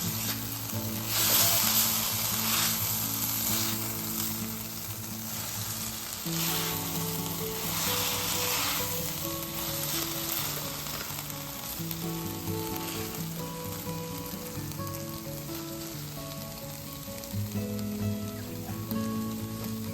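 Diced butternut squash sizzles steadily in a hot pan for risotto, a close continuous frying crackle with occasional stirring scrapes and a faint musical backdrop.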